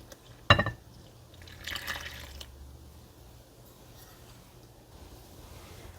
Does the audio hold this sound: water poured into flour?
yes